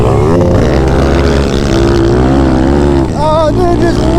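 A Thumpstar TSX140 pit bike screams at high revs on a track, a loud, buzzing single-cylinder drone held near the top of the range with brief dips and rises as gears are shifted.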